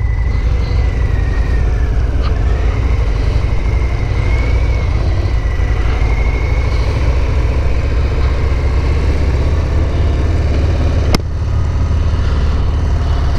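A 2019 Harley-Davidson FXDR motorcycle engine on a test ride, running as a loud, steady, close low rumble with a faint rising whine and one brief click near the end.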